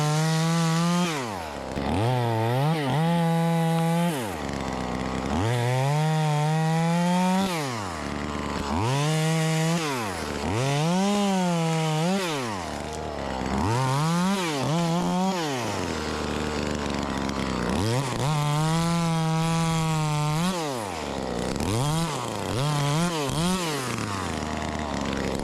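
A knock-off Echo 2511T chainsaw cutting wood, close and loud, revving hard again and again in rising and falling cycles as it bites into each cut and bogs slightly under load.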